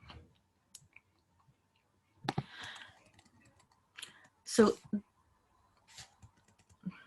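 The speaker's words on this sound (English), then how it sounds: "my keyboard is a bit sensitive" A computer keyboard gives scattered clicks and short bursts of typing during an online English lesson, near and fairly sharp, and a voice briefly speaks.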